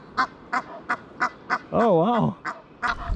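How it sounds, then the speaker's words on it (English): Ducks by a river give a rhythmic series of short nasal honks and quacks, then one longer wavering call, close by, with a person briefly speaking between them. "I don't know what these ducks are about to do to me"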